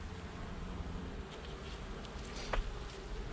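Honey bees hum and buzz around an open hive during a November inspection, a low, continuous drone close by with a few louder passes near the end.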